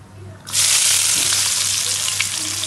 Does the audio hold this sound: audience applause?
no